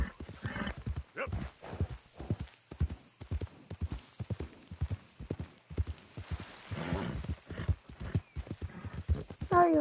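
Hooves of a horse in a video game clip-clop in a quick, steady rhythm throughout, with a short whinny partway through and faint background sound.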